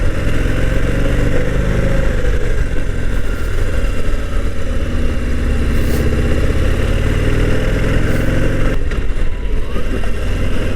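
A Harley-Davidson Heritage 114 motorcycle engine drones steadily while riding, loud and close, with a continuous rumble blended with wind and road noise and a few brief shifts in tone, no voices.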